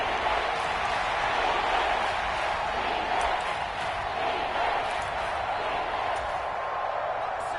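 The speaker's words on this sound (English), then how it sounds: "The Arrowhead crowd in full roar." A stadium crowd at Arrowhead roars in an American football video game, a dense, loud and continuous wash of cheering that stays steady from start to finish.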